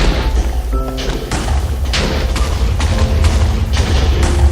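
Rocket launcher firing in a Minecraft map, a mobile TNT-cannon-style weapon, giving a dense series of booming thuds and blasts over a constant low rumble, loud and continuous for several seconds.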